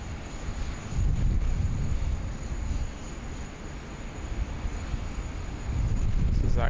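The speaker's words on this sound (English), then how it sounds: "This is Qantas 430 coming in from Melbourne." A Qantas airliner on approach into Sydney Airport after a flight from Melbourne makes a broad, distant engine roar that swells and eases, blended with wind rumble and a faint steady whine.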